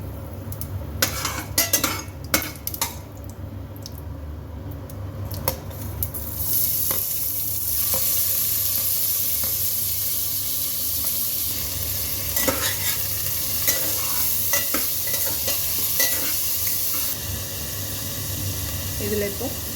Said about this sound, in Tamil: இப்போ இது எல்லாத்தையும் நான் இந்த ஆயிலில் சேர்த்துக்கிறேன்